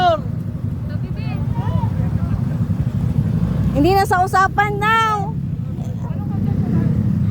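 Motorcycles ride through a shallow river, their engines a steady rumble beneath near, excited talk, with a brief higher revving burst partway through.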